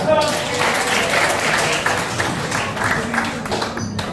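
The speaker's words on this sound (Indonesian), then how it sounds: "Tepuk tangan dulu yang udah pernah nonton ngiri-ngiri sedap." Audience applause at a stand-up comedy show, a continuous wash of many hands clapping from a crowd, steady and fairly loud throughout, with voices mixed in.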